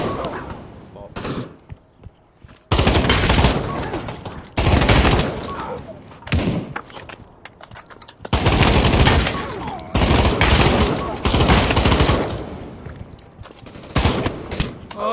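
Rapid bursts of automatic gunfire in the VR shooter Pavlov VR, loud volleys starting and stopping in clusters with short quiet gaps, and a voice talking in between.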